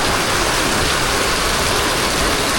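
Rain pours steadily outdoors in Malaysia, a dense, even hiss that stays loud and unbroken throughout.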